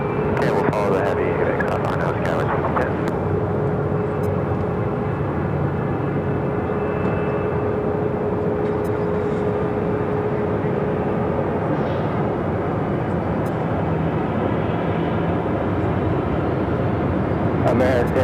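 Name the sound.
airplane taking off at Phoenix airport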